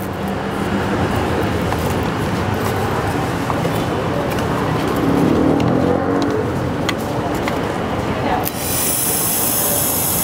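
Refrigerator compressor, seized and then started directly with pliers, running with a steady loud mechanical hum and rattle that fills the whole stretch, close by, with no voices over it.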